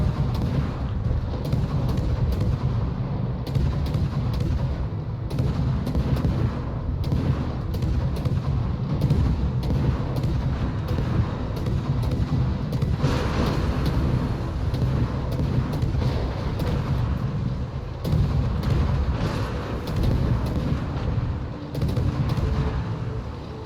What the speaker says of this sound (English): Threw some extra shots out there into that Harugumo.